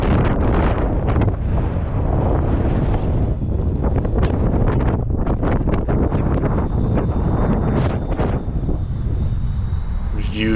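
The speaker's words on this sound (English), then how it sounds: "Trying to be real precise with that wind whipping too." Strong wind roars steadily at a cliff edge on Garvin Heights in Winona, Minnesota, battering the microphone in constant loud buffeting gusts with no letup.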